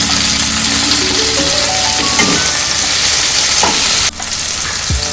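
Tomatoes dropped into a hot pan for mutton curry, with loud continuous frying sizzle and stirring scrapes, a brief clatter near the end and no talking.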